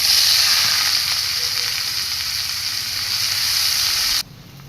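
Finely chopped onions frying in oil in a pan for pulao, giving a steady, loud, close sizzle that cuts off abruptly near the end.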